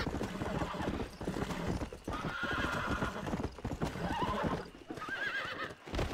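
Horse hooves clip-clop at a gallop with repeated whinnies and neighs in the Red Dead Redemption western video game, loud and continuous with game sounds layered in.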